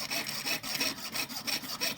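Jeweler's saw cutting out a metal wrap ring design from a template, a steady rhythmic rasping of back-and-forth strokes, close and alone, about four strokes per second.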